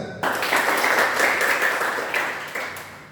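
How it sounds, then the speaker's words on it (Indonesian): Students at a vocational high school orientation clap together, a sudden onset of dense applause that holds steady and gradually thins out, with a few sharper claps standing out. "tepuk tangan."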